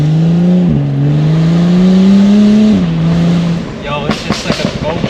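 BMW with a DCT gearbox accelerating in normal drive mode, a steady loud engine drone rising in pitch with one brief gear-shift dip before fading into road noise and light clatter, with voices in the car.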